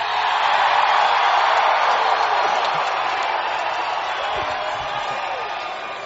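Wrestling arena crowd at a 1996 WCW Starrcade event, a loud sustained roar of cheering filling a large hall, slowly fading over several seconds.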